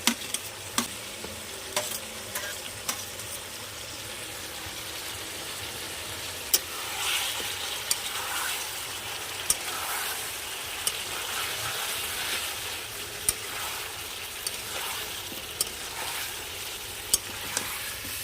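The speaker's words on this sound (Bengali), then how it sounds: "বেশ কিছুক্ষণ কষিয়ে নেব যেন ভালো করে মাংসটা সুসিদ্ধ হয় এবং ভাজাটা ভালো হয়" Spicy red meat with potatoes stir-frying in a pan, a soft steady sizzle with occasional sharp clicks of the spatula against the pan, fairly quiet, a faint low hum underneath and no talking.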